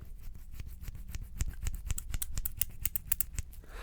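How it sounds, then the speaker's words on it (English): Small sewing-kit scissors handled and snipping close to the mic, a quick run of crisp metallic clicks and snips that grow denser and sharper, with no talking. "Little tiny scissors."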